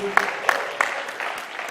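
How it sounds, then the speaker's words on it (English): Audience at a squash league match clapping for player Sander, a short burst of scattered, moderately close hand claps with a voice speaking over them. "Round of applause for Sander, please."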